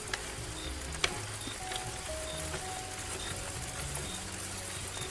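Dense, steady hiss of heavy rain pattering on a surface, with a sharp crackle near the start and no voices.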